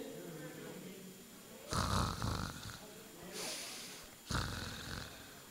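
A person snores in loud, ragged bursts, three heavy rasping inhalations separated by quieter breathing, close and clear.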